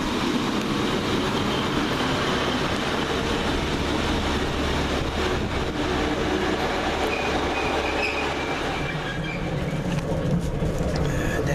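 A train arriving at Filton Abbey Wood station on the Great Western line, loud and close, with a sustained broadband rumble, squealing wheels and rolling clatter that eases slightly near the end.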